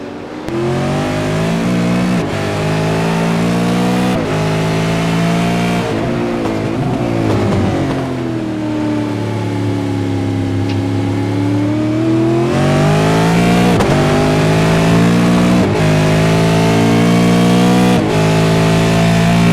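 V8 veteran race cars racing at Donington, engines roaring loudly and continuously with rising and falling revs through gear changes as cars pass close by, no voices.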